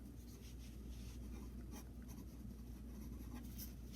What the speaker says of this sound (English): This is an Omas 18 karat fine nib